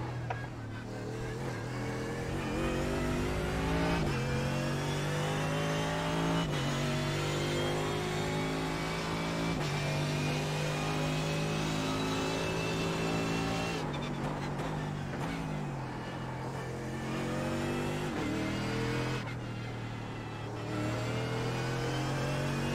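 Mercedes GT3 race car at Imola in iRacing, its engine droning steadily and loud throughout, revving up through the gears with brief drops at shifts and no talk over it.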